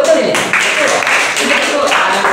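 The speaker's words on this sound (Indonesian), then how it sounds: "Tepuk tangan dong." Students in a classroom clap together in a loud, dense burst of applause lasting a couple of seconds, with voices mixed in.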